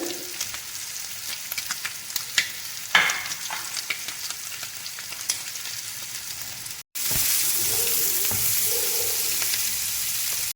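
Chopped onions and green chillies frying in a pan with a soft, crackling sizzle and occasional stirring scrapes, becoming a louder, steady hiss in the last few seconds.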